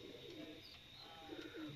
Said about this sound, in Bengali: রামপুরি, টেডি কবুতরগুলো রয়েছে